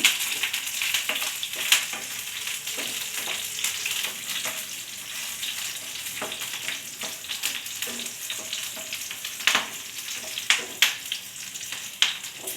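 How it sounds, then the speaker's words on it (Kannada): Green chillies crackle and sizzle in hot ghee, a steady frying hiss broken by sharp pops and spits, close and fairly loud. "ಹಸಿಮೆಣಸಿನ್ಕಾಯಿ ಹಾಕ್ಕೊಂಡಿದ್ದೀನಿ. ಹಾಕ್ಕೊಂಡು ಸ್ವಲ್ಪ ಹಾಗೆ ಫ್ರೈ ಮಾಡ್ಕೋಬೇಕು."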